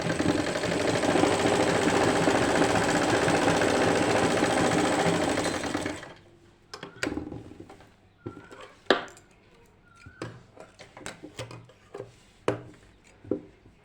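A sewing machine runs in a fast, steady, loud whir for about six seconds while stitching pleats on a lined kameez, then stops, leaving scattered clicks and handling knocks of fabric and tools.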